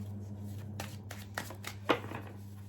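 Tarot question-and-answer cards shuffled close by, a soft quick riffle and shuffle of the deck in short bursts, with a low steady hum behind.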